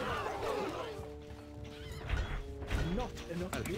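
A horse whinnies in the strategy game Stronghold: Crusader, a long, wavering neigh over busy game sounds and faint hoofbeats, moderately loud and close.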